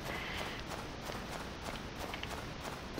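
Horse hooves in the Stardew Valley video game trot in a steady, fast clip-clop rhythm, a continuous run of light footfalls over a busy game background.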